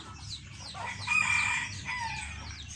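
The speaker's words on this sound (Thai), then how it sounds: "ตัวหนึ่งขันอยู่ในดอน ในดอนในป่า" A fighting rooster crows in cold, overcast weather, one drawn-out call at moderate distance, with faint clucks and other birds around it.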